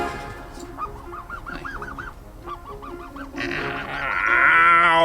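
Geese honk in a series of short nasal calls, two bursts of rapid repeated honks, with louder flapping and commotion building toward the end.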